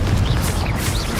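Confringo explosive spell cast in Hogwarts Legacy, a short dense burst with a booming low rumble and brief whooshing swirls on top.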